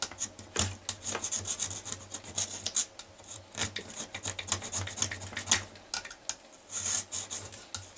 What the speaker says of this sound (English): when you feel the knife gliding over the top of the vise, you know you're there